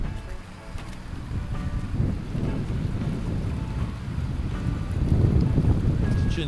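Water runs steadily down a frozen artificial waterfall in winter, heard from the top as a continuous broadband rushing wash with wind buffeting the microphone, swelling slightly louder toward the end.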